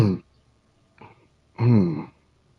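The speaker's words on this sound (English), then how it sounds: "this coughing brings tears in my eyes" A man clears his throat with a short rough burst, then a brief faint grunt, then a longer hoarse throat-clearing cough that has a vocal, groaning edge, close to the mic with silence in between.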